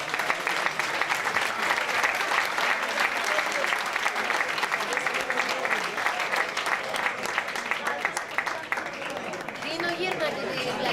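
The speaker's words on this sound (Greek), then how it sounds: "αξίζει ένα πολύ μεγάλο χειροκρότημα" Sustained applause from an audience at a New Year's pita-cutting celebration of a Greek association, dense and steady clapping filling the room for about eleven seconds with murmured crowd chatter mixed in.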